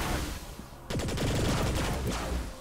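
Gunfire in Saints Row: The Third Remastered breaks out as a sudden loud burst of rapid automatic shots, continuing for about two seconds over steady game noise.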